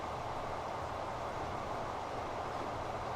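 A diesel train races in the Transport Fever video game, a steady, dense rolling rumble with a broad hiss, held at an even, loud level throughout with no talking.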